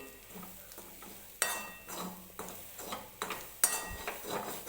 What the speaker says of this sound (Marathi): परत आपल्याला छान असं हे खोबरं भाजून घ्यायचं आहे.